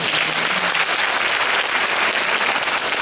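Audience at a school-themed talk concert applauding, a loud, continuous wash of many hands clapping close up for the full stretch with no break.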